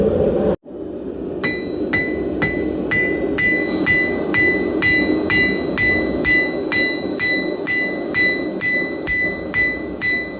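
Hot steel being hammered flat at a blacksmith's forge: steady, evenly spaced ringing hammer blows, about two per second, loud and close over a low roar from the forge, with no talking.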